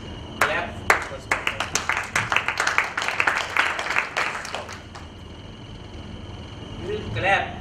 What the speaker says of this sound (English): Okay, let us clap first.